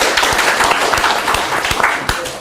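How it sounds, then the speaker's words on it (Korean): Audience at an academic social welfare conference claps to welcome the final professor, a close, lively burst of many hands with distinct individual claps standing out, steady for a couple of seconds. "박수."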